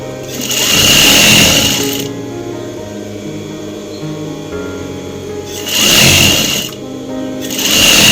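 A sewing machine stitches the hem of a pant leg in two loud, steady runs of rapid mechanical whirring, separated by a quieter pause, with a shorter burst at the end.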